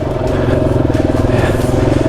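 A dual-sport motorcycle rides a rough, rocky expert section of the New Mexico Backcountry Discovery Route near Elephant Butte, its engine droning loud and close with a rapid pulsing throb and rattling clatter throughout.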